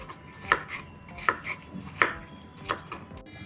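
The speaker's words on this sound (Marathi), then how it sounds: "बारीक असे पीस करून घ्यायचे त्याचे" A knife chops watermelon into small pieces on a board, four or five sharp, evenly spaced thuds up close with quiet pauses between them.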